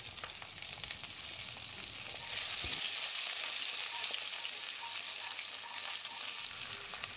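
Cumin seeds and green chilies fry in hot oil for potato masala curry, a steady close sizzle and crackle that runs without a break throughout, with no talking.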